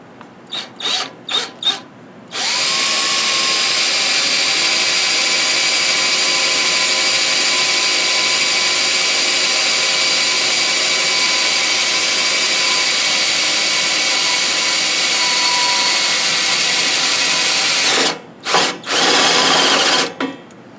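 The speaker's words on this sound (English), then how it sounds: "So now I'm going to center drill, and then we're going to punch a hole in her." A steady, high-pitched whine of a drill bit center drilling a wheel rim, running continuously for about sixteen seconds, bracketed by short bursts of start-and-stop revving at each end.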